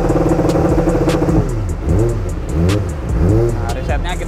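A Kawasaki ZX-25R four-cylinder engine revs repeatedly against a 5000 RPM limiter, loud and close, with rising and falling pitch sweeps in bursts while a voice talks over it.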